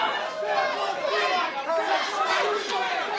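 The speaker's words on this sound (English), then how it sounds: "And listen to the crowd." A wrestling arena crowd murmurs and buzzes after a near pinfall, a dense roar of chatter and excited voices that rises and falls, moderately loud.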